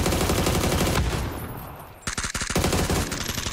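Gunfire in the battle royale video game PUBG: rapid automatic bursts dominate at full loudness, fade briefly to a quieter lull, then return as sharp, closely spaced shots and renewed sustained fire.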